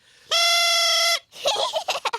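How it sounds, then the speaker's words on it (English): A silly elf band instrument called a thrump warbler blares a loud, sustained buzzy reed-like tone for almost a second, then sputters into squawking, clucking bursts that sound like a flustered fowl. "This is called a thrump warbler."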